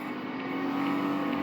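A Mercedes accelerating in the Real Racing 3 racing game while chasing a BMW, a loud steady engine drone that rises slightly over a short stretch, with no voices.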